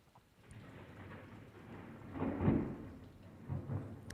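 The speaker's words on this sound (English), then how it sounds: "Did you hear that thunder?" Distant thunder rumbling during a thunderstorm, a faint low roll swelling in the middle and returning softly toward the end over quiet background.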